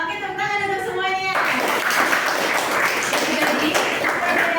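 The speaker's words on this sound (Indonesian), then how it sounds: "Oke, tepuk tangan untuk semuanya." Classroom applause from a group of students, a broad sustained patter of clapping that starts after a teacher's sung or spoken lead-in and continues steadily to the end.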